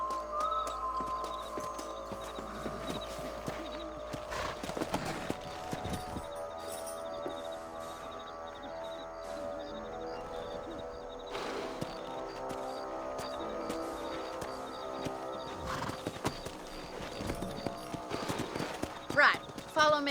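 Steady clip-clop of horse hooves at a walking pace in Red Dead Redemption, with a horse snorting and background music and voices underneath, sounding like a game soundtrack.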